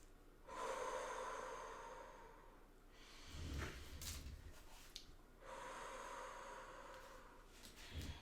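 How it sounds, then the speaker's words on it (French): A person demonstrates deep breathing, a quiet close-up sequence of long, slow inhales and exhales, roughly three full breath cycles of soft airy rushing with no speech. "vous pouvez faire des respirations profondes, comme cela"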